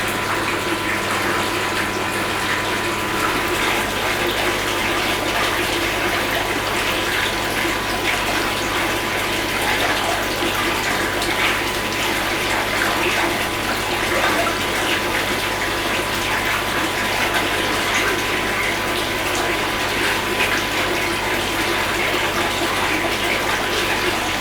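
Running water pours steadily into a koi breeding tank, a constant, fairly loud rushing and splashing that continues unbroken throughout with no voices.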